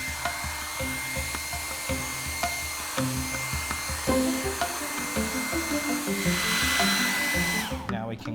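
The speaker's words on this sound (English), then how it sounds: "I'm actually gonna give it a blast with the hair dryer on a cool setting" A hair dryer on its cool setting blows a constant whirring hum with a faint whine over a fresh acrylic paint pour, its pitch wavering slightly as it moves. The dryer runs alone without talk.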